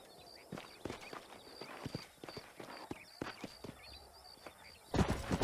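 Horses' hooves clip-clop in Red Dead Redemption on Xbox 360, a herd moving at an uneven gait with irregular, fairly close thuds over faint ambience, then a louder burst of noise at the end.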